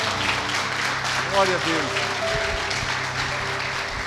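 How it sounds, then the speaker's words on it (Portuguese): A church congregation claps at an evening celebration service, a steady wash of applause running beneath a voice speaking throughout. "Se eu fosse você, eu aplaudir o Senhor nessa noite."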